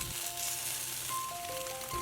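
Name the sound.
North Korean tofu rice triangles frying in a pan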